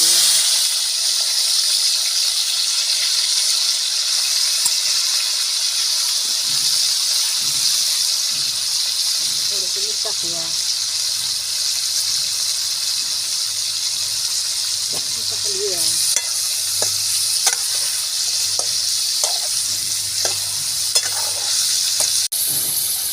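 Chicken with turmeric frying in oil over a village wood-fired stove, a loud continuous sizzle close up with occasional scraping stirs, while a person talks at intervals over it.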